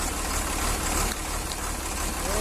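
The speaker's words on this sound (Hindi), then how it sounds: "तो फाइनली दोस्तों हमारा जो इंजन है वो स्टार्ट हो गया है।" A Poclain excavator's diesel engine runs at idle after starting, a loud steady low rumble with a rough, knocking throb close by and no voices.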